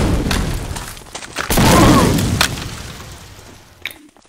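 Grenade blast in the video game Medal of Honor: Allied Assault during a competitive cup match, a single loud boom with a rumbling tail preceded by a few sharp clicks and pops.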